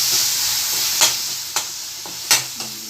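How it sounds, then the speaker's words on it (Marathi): Vegetables with turmeric stirred in a hot pan for a thali, a bright steady sizzle broken by a few distinct spatula scrapes and taps on the pan, close and without speech. "हळद टाकून 2 मिनिटं हलवून घ्यायची"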